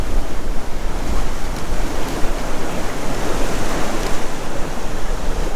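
Ocean wave washes over rocks around a tripod on the shore at Barragga Bay, a loud continuous roar of surf and white water mixed with gusting wind buffeting the microphone, no talking.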